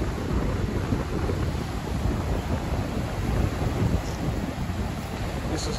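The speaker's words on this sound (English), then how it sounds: "Waves out there. They're at least 2 foot high, 2 to 3 feet." Ocean surf of two to three foot waves at Holden Beach roars continuously, a dense, loud wash with strong wind rumbling across the microphone and no voices.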